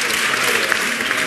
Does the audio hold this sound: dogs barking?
no